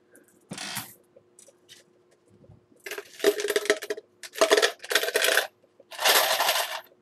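Pennies dropped into a cup in several bursts: a rattling jingle of coins, a pause with faint clinks, then three or four more close, bright cascades of metal striking metal.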